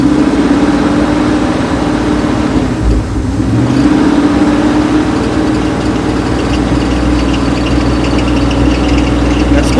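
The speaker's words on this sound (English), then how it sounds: "Let me just rev on it." A 1983 Chevy C10 engine running loud and close, a steady idle rumble with a revving swell that rises and settles, plus a persistent whining tone; no one speaks.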